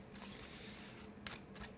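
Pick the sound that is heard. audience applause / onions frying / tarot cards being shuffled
tarot cards being shuffled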